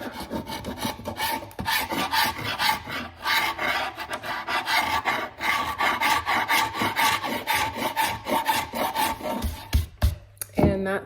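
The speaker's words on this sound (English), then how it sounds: "We can just scrape up all the old glue and whatever new glue has been stuck on here." Old glue being scraped off a wooden surface to prepare it for new veneer: a steady run of dense, rasping strokes, close and fairly loud, with no talking, ending in a few sharper knocks.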